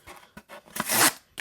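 A tanto knife cutting diagonally through a piece of single wall cardboard, heard as a few short scraping rasps and then a louder, longer tearing slice close up.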